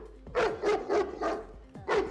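A dog barks in a series of five sharp, evenly spaced woofs with brief pauses between them, close and fairly loud, with a faint whine between barks and no talking.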